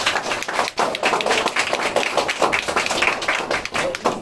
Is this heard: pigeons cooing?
no